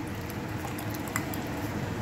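Rasam, a South Indian soup, frothing as it cooks in a pot: a steady soft bubbling and fizzing hiss with faint pops, close and unbroken.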